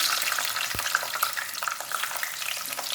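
Bitter gourd (karela) frying in hot oil, giving a close, steady crackling sizzle throughout with one brief knock partway through.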